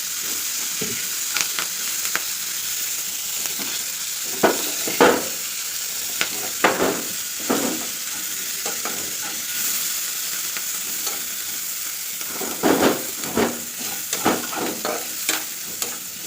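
Boiled taro being cooked in a pan, with a soft background sizzle of frying and repeated scraping, clanking stirring strokes that come in bursts, close and fairly loud, no voices.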